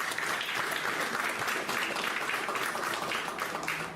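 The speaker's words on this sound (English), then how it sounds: "a big round of applause for her" An audience at a sports science conclave breaks into a big round of applause for a para-athlete supporter, dense sustained clapping from a large crowd filling the hall for the full four seconds.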